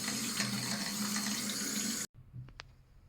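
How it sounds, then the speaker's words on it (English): Water running from an opened household tap, drained to equalize pipe pressure during a coarse filter replacement: a steady rushing flow that cuts off abruptly, followed by faint drips and small clinks. "Open the tap to drain some water to equalize the pressure in pipe."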